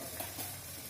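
Egg and chicken pakoras fry in hot oil on a rainy evening, a faint steady sizzle and crackle heard alone at low level throughout.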